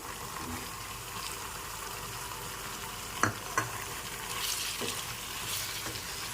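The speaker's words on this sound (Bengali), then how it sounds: "টমেটো আর ক্যাপসিকামটা দু মিনিট মশলার সাথে ভালো করে নেড়ে চেড়ে ভেজে নিয়েছি" Tomato and capsicum fry with spices in a pan, giving a steady sizzle and a few distinct scrapes and knocks of a spoon stirring, close up with no voices.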